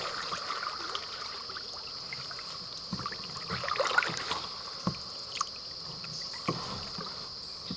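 A kayak is paddled through flood water on the Ohio River. Soft rhythmic paddle strokes and gentle splashes sound close over a steady watery rush, with a few sharper dips near the end.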